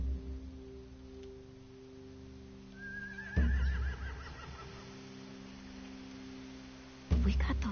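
A horse gives a rising, wavering whinny at moderate distance in a tense outdoor scene, framed by sudden loud thuds and a low steady hum, with no clear talk.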